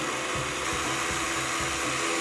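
A blender whirs steadily, blending lychee with a spoonful of jam, a loud, even motor drone with several brief low thumps as the fruit knocks around the jar, no voices.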